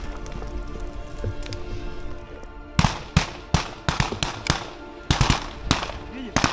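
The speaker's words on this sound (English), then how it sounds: "The Ukrainian forces spot it just in time and open fire." Soldiers fire rifles at an FPV drone, starting with steady background noise and faint talk, then breaking into a burst of sharp, fairly close shots at an irregular rhythm over roughly four seconds.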